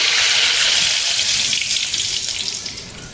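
Fenugreek seeds dropped into hot oil in a kadai, already seasoned with cloves and black peppercorns, give a loud, dense hiss of frying that fades slightly toward the end, with no voices.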